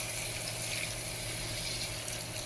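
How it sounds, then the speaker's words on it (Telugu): Water poured from a glass into a simmering gravy curry in a home kitchen, a steady faint broadband splash and hiss holding evenly for a couple of seconds with no voices. "ఇప్పుడు నేను 1 గ్లాస్ వాటర్ వేస్తున్నాను"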